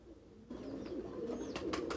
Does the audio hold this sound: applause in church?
no